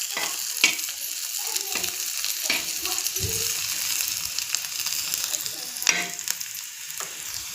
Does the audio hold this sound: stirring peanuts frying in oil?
yes